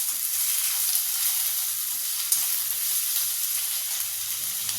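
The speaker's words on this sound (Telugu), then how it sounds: "ఆలుగడ్డ మంచిగా ఫ్రై అవ్వాలి." Potato pieces fry in hot oil with mustard seeds and cumin seeds, giving a constant close sizzle and bubbling hiss with an occasional faint pop, and no voices.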